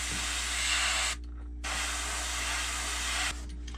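An airbrush sprays paint in a steady, close hiss, pausing briefly once and stopping again near the end.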